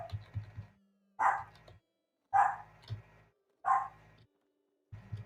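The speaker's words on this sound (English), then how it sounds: "the dog that's in my house" A dog barking inside a house, four sharp separate barks spaced about a second apart with short yips, fairly close and clear, with a low background hum between them and no speech.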